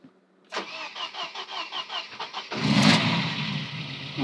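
Mercedes 190E 2.5-16v Cosworth engine, with a stainless steel exhaust, cranking with a steady rhythmic starter churn for about two seconds before firing into a loud, full rev and then settling into a rough idle.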